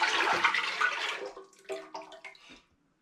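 Thick homebrew porter wort, dark and syrupy like melted chocolate, poured back into a pot while brewing an all-grain beer; a steady close liquid gush for about a second, then slower glugs and drips tapering off.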